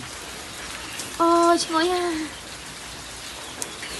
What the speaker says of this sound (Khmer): ហើយត្រូវមេឃភ្លៀង